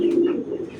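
A large hammer pigeon gives a single close, low, soft coo that lasts under a second.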